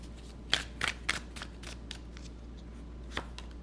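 Tarot cards being shuffled to draw a single card: a few quick riffling flutters close by, then a quieter pause and one more soft flick, with no talking.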